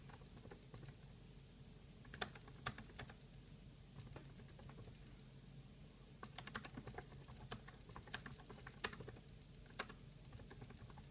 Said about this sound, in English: Let me try and type.